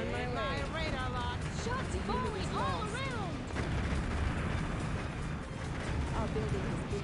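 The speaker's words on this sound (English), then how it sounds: "Shots falling all around." Artillery shells land all around in an Earth 2150 battle, steady heavy booms and bursts under radio-style unit voices and chirping alert tones.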